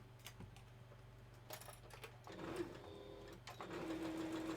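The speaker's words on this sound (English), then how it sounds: "We're gonna have to stitch this one up too." A sewing machine stitches a seam on a curved piece, running in a quiet steady mechanical patter that grows louder and busier toward the end, with no talking.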